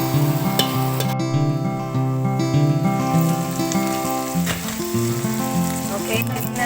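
Humba in a pan with oyster sauce simmering in a steady soft sizzle, partly buried under continuous background music.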